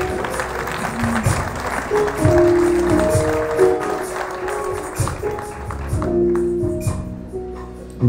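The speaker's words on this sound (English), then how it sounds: "you ought to just clap your hands" Congregation at a homegoing service clapping hands along with music, steady rhythmic claps over sustained organ-like tones and voices, continuing for several seconds before easing.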